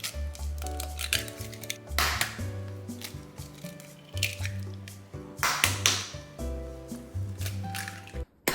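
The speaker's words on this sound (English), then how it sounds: "Cut the egg whites by lifting it up with the chopstick." Chopsticks working through egg whites in a pan for chicken oyakodon, giving soft squishy, wet taps and lifts in an uneven rhythm over a continuous low simmering bubble.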